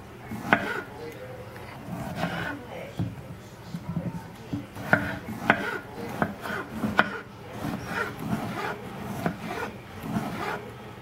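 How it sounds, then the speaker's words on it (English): A knife quarters hulled strawberries on a cutting board, giving a series of close, irregular woody taps and short scraping cuts, with faint voice sounds in the background. "Quartering the strawberries."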